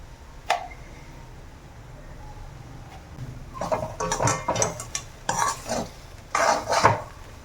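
Puffed rice ugaani with lemon juice and salt is stirred and tossed in a pan, giving bursts of scraping and rustling clatter in the second half after a quiet start with a single clink.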